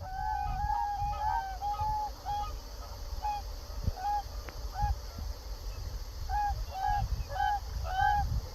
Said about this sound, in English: the sharp trumpeting of cranes mingling with the deep melodic voices of swans